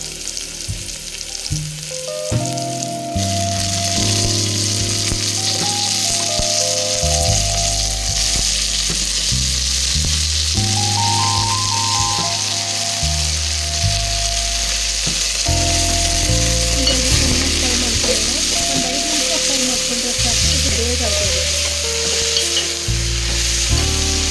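Drumstick leaves and tomato fry in a pan with a loud, continuous sizzle, and a utensil repeatedly scrapes and stirs against the pan under it, with a steady tonal hum running beneath.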